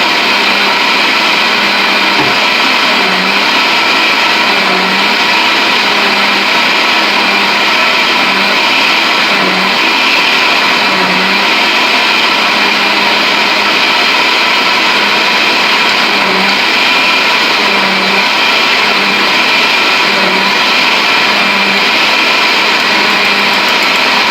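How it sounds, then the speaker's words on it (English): A blender runs steadily and loudly throughout, its motor droning with a strained, labored tone as it churns a thick mixture, with no talking. "you can hear the blender actually have to work"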